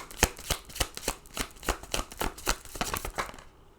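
Tarot cards shuffled by hand at close range: a rapid string of crisp riffling slaps, about a dozen in a fairly even rhythm, with no speech over them.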